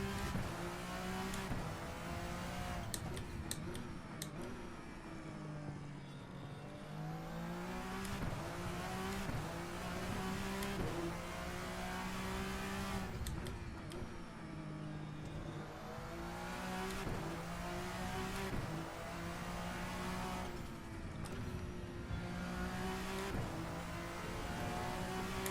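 VRC Vendetta V60 race car in Assetto Corsa roars steadily throughout, its engine note rising and falling through gear shifts and corners, loud and close with no talking.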